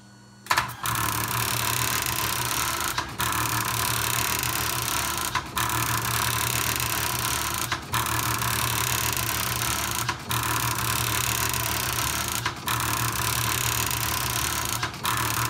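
A restored Diablo HyType II daisy wheel printer printing ASCII art, a dense, steady rapid-fire hammering close by, broken every couple of seconds by a brief pause and carriage shift, with a constant mechanical hum underneath and no voices.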